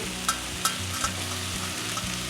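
Beef steak frying in butter in a pan gives a steady, close sizzle with a low hum underneath and a few sharp spits and crackles breaking through.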